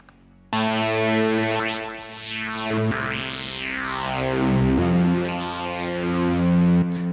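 Aggressive, vocal-like synth patch on the Arturia MS-20V, two linked, slightly offset filters with some distortion, sustained harmonic tones sweeping up and down in formant-like glides, loud and alone.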